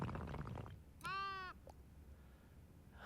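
An angry sheep in the cozy building game Tiny Glade lets out one clear, nasal bleat of about half a second, loud and close. Quiet murmuring comes before it and faint ambience follows.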